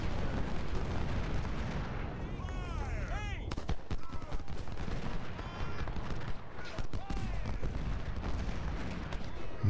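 Cannon and artillery fire in the Civil War strategy game Ultimate General, a dense run of booming shots and rattling volleys over ten seconds, loud and continuous with bursts of battle noise layered throughout.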